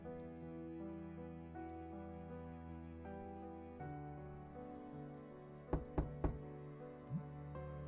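Sharp knocks on a door in the video game Children of Silentown, three quick raps and a fainter fourth, standing out over a steady, soft musical score with no voices.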